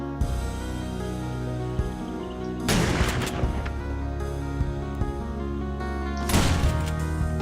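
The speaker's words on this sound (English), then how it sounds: "Let's try the shotgun." Two heavy shotgun blasts ring out in the survival video game 7 Days to Die, loud and several seconds apart, each with a short booming tail over a steady background drone.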